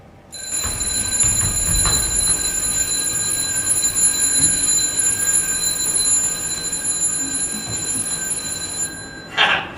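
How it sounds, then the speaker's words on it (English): An alarm clock rings continuously for about eight seconds, a bright, steady metallic bell tone that stops abruptly, followed by a short clatter at the end. "The alarm, is it working?"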